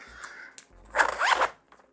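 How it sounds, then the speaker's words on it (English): A zipper on a slim fabric tech pouch is drawn open in one smooth, quick pull, close and clear, with a few soft handling rustles around it and no talking. "The zipper on this is my favorite out of all 4 that I've talked about."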